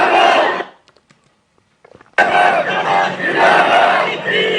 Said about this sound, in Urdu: آپ ذرا ایک اور کلپ دیکھیں اور یہ ذرا نعرے سنیں اور ان نعروں سے آپ محظوظ ہوں